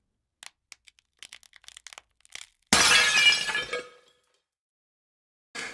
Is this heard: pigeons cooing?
no